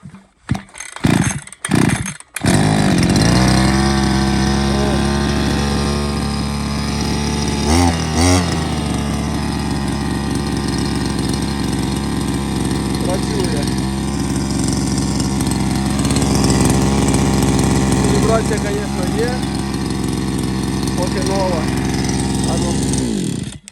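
A Procraft T4200 PRO petrol brush cutter pulls over in a few short cranks, then catches and runs loud and steady with a brief throttle blip, its buzzing two-stroke drone continuing close up to the end.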